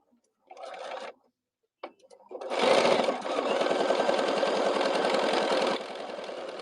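A sewing machine stitches a pin cushion made from fabric scraps, starting with a short burst, pausing, then running in a longer steady whir that eases slightly near the end.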